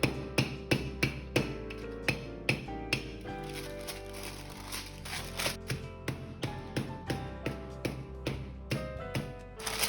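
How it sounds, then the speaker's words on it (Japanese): Rolling pin pounding hard cold butter sandwiched between sheets of baking paper for puff pastry, a steady series of firm, close thuds repeating about twice a second throughout. "この硬いバターを綿棒で叩いて柔らかくしていきます"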